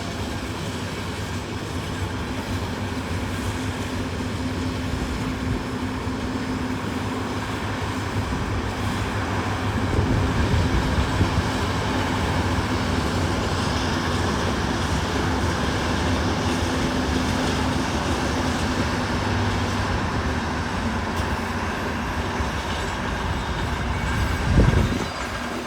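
A train rumbles past with a continuous heavy roll of wheels on rails, faint rhythmic clacking and a brief squeal near the end, steady and fairly loud throughout, with no voices.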